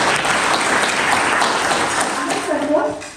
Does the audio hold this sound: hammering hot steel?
no